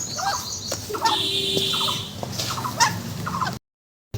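Chickens cluck close by in short, repeated bursts with a few higher calls, set among ducks and chickens kept for slaughter. The clucking runs steadily before cutting abruptly to silence.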